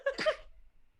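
A single close, fairly loud sneeze, sharp and brief, followed by quiet.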